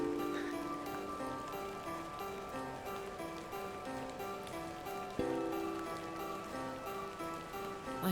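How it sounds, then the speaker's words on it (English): Steady rain falls in The Excavation of Hob's Barrow, a soft, even patter of drops with faint ticking on surfaces beneath a low sustained musical tone, quiet and continuous throughout. "Wait, where does the rain come from?"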